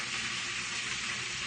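Spinach sizzles in a hot pan while being stirred, a steady close hiss of frying with no talking over it.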